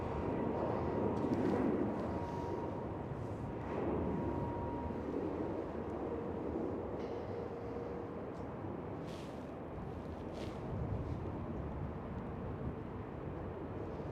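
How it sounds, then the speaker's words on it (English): KLM Cityhopper Embraer E190 jet taking off at Amsterdam Schiphol in windy weather, a steady broad engine roar with buffeting wind rumble, holding fairly level throughout with no voices. "KLM Cityhopper E190 taking off."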